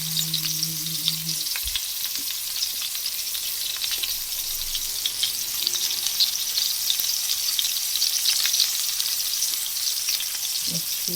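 Honey garlic salmon sizzles and fries steadily in a pan, a continuous close crackling hiss with no voices.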